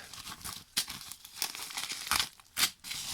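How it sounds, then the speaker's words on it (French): Plastic packaging from an AliExpress scrapbooking order of Disney, Harry Potter, Star Wars and Marvel items crinkles and tears nearby in irregular bursts, with several sharp rips among softer rustling. "On va tout déballer."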